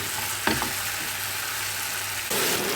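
Ground onion paste sautéing in a pan for a banana flower curry, a continuous close sizzle with a spoon scrape near the start and a louder burst of frying toward the end, no voices.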